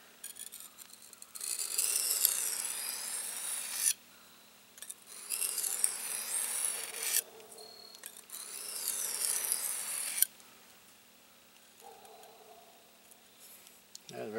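Steel knife blade stroked repeatedly across a bench sharpening stone, three long rasping passes of about three seconds each separated by short pauses, close and fairly loud, followed by a quieter handling sound.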